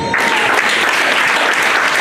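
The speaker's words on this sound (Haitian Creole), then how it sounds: "On a applaudi le Seigneur." A church congregation claps together in steady, loud applause that begins almost at once and carries on evenly throughout, a dense wash of many hands with no pause.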